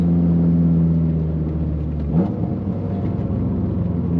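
A car exhaust droning at a steady idle, then a brief rev swells and settles into a rough, raspy rumble, close and loud; the exhaust gets especially raspy around 3000 rpm.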